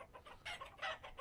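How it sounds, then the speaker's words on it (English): Chickens cluck in a hen house in the Vintage Story video game, a quick run of soft clucks followed by two louder squawks, close and faint, with no talk. "But there's way too many chickens in here."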